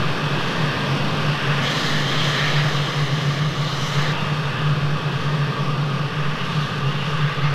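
Jet engine of an F-16 taxiing in a flight simulator game, a steady loud roar with a constant low hum, holding evenly throughout without voices.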